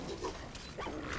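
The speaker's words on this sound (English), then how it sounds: "I don't like hurting dogs in games" A dog yelps and whimpers in Fallout: New Vegas, a couple of short pained cries over game background noise.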